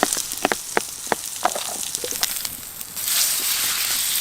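Mushrooms frying in butter in a pan on a backcountry camp stove in the rain: scattered sharp pops and crackles give way to a steady hiss of sizzling.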